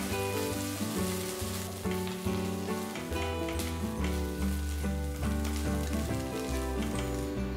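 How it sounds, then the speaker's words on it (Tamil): Onions and ginger garlic paste fry in a pan for a chickpea biryani, a constant close sizzle and crackle with soft stirring and no voices. "வெங்காயம் பொன்னிறமான பிறகு இதில் 1/2 டீஸ்பூன் இஞ்சி பூண்டு பேஸ்ட் போட்டு 2 நிமிஷம் நல்லா வதக்கிட்டு"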